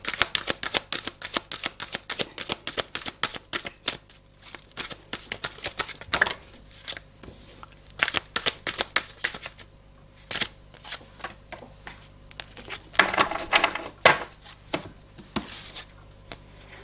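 A deck of divination cards is shuffled by hand before a second draw. Dense riffling and flicking come in close bursts with brief pauses, and the sound carries on continuously without speech.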